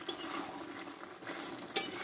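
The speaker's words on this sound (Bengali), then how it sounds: "মশলাগুলো দিয়ে আমি একটু নাড়াচাড়া করে নেবো" Pumpkin with garam masala and a little sugar is stirred in a pan over a constant soft frying hiss, with gentle scraping and one sharper tap near the end, and no talking.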